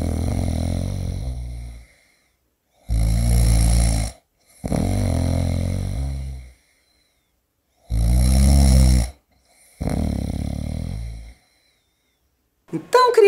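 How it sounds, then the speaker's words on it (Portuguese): A person snores loudly in four long, rasping breaths separated by pauses of silence, close and even in rhythm, with a brief sound at the very end. "Som do quê? Alguém roncando? Isso mesmo!"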